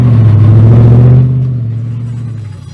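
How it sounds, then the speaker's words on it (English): A race car engine at a Silverstone club race meeting holds a loud, deep, steady rumble close by, then the revs drop and the sound fades. "The cars are revving up."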